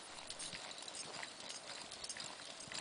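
Hooves of a bay and white tobiano paint pony mare cantering along an arena rail under a young rider, a steady quiet patter of footfalls against a faint, even background.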